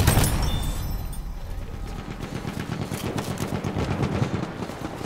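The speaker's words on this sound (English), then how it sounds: "Ein Maschinengewehr! Feindliche SMG gesichtet!" Machine gun fire in the video game Battlefield 1 bursts out in rapid, dense rattling volleys, growing fuller in the second half amid a busy battlefield roar.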